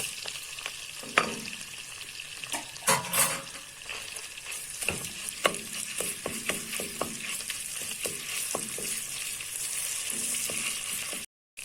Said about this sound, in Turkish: Biraz sıvı yağ, bir kaşık tereyağımız var. Bir kaşık salça ekliyoruz.